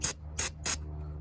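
Three short, loud hissing bursts of brake cleaner sprayed from an aerosol can onto a used Hemi engine block, evenly spaced, over a low steady hum.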